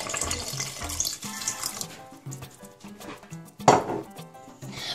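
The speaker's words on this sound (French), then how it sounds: "Je vais rajouter un verre d'eau." Water from a glass is poured into a pan of Moroccan tomato sauce with minced meat and peppers. It makes a steady close splashing pour over kitchen background sounds, with a brief louder splash near the end.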